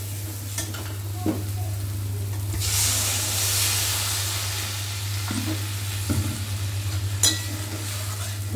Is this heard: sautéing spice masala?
yes